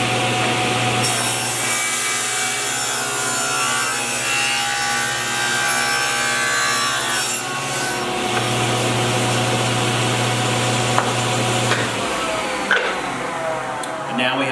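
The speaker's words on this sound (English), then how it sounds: "I'm going to turn this on, I'm going to give it a" A table saw rips wood along a pattern fence in a woodworking shop, its motor whining steadily and loudly with the blade biting through the board, the pitch dropping briefly as the cut proceeds and ends.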